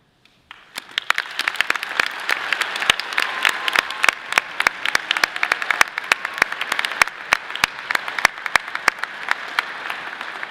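A commencement audience applauds honor society graduates, clapping that starts abruptly and builds into a steady crowd patter, with individual sharp claps standing out close by throughout.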